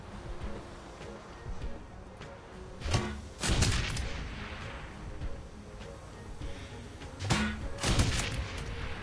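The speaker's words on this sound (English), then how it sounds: "Grenade launcher." Grenade launcher shots in the Shadowrun Hong Kong game come as two clusters of sharp blasts, each pair of bangs followed by a short rumble, heard over a low background score.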